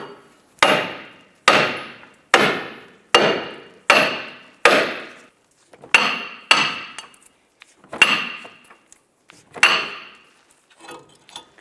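A hammer bangs repeatedly on a rusted, stuck brake rotor on a Ford Fiesta, a dozen sharp metallic strikes in a steady rhythm, loud and close with short ringing decays.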